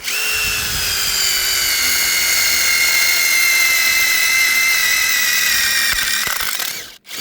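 A power drill with an overheated drill bit whines steadily at high pitch for several seconds, close and loud, then winds down and stops near the end.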